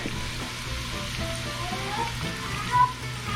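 Garlic sizzles quietly in a hot pan for Portuguese tomato rice, a soft steady frying hiss with a few faint clinks, no talking.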